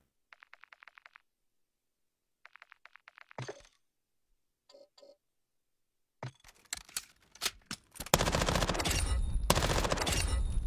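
Bursts of rapid gunfire from a gun in a video game: two short strings of rhythmic shots, a heavy thump, a couple of brief clicks, then a dense roar of blasts and chaotic noise building to a loud sustained wash.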